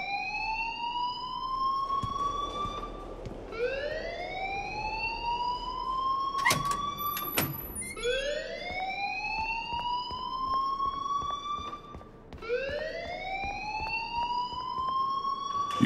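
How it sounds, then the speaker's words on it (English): A fire alarm in the video game Life is Strange wails in repeated rising whoops, each swelling upward and restarting at a steady pace, continuous and moderately loud with a brief electronic blip midway. "please turn off that alarm since that's your"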